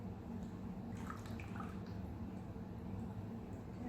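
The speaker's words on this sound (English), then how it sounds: "Just getting my accent colors poured off." Melted soap pours steadily into bowls while accent colors are divided for handmade bars, a soft continuous trickle with faint drips sitting under a constant low room hum, no voices.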